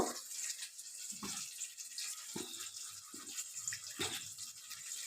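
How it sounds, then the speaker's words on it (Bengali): Water trickles into tomato sauce as egg chilli is prepared in a home kitchen, a soft steady pour with small splashes, close and fairly quiet, with no talking. "এবার এটাকে আমি একটু জল দিয়ে গুলে নেব"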